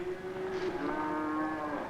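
A cow at an animal research station lets out one long, drawn-out moo, close and clear over faint background noise.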